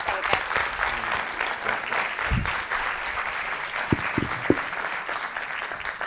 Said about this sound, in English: can we give them a really, really big round of applause